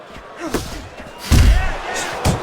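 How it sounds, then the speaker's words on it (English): Punches land in the Fight Night Champion boxing game: a heavy, booming thud hits mid-stretch, framed by lighter, sharper impacts before and after, with crowd noise in the background. "That's a well-scored left hand by Calzaghe."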